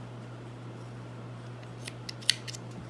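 Scissors snip crochet yarn in a few faint, crisp cuts near the end. A steady low hum runs underneath and no one speaks.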